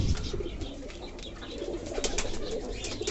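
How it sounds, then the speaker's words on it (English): A fancy pigeon kept as a pet coos softly in low murmuring phrases over a muffled, noisy indoor background, with no speech. "So you can see this cute fancy bird, Lumi."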